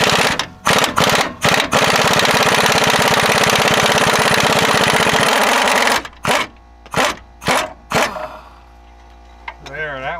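An air impact gun removes the rear upper control arm bolts on a Chevy Trailblazer, hammering loudly and continuously for several seconds, then firing off in short bursts. A voice is heard near the end.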